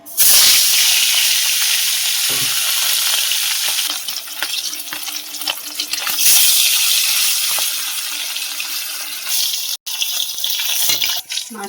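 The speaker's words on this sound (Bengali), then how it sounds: "মাছটা ভেজে নেব।" Small fish fry in mustard oil in a wok with a loud, steady sizzle and hiss. Occasional stirring scrapes and a brief clink break through it.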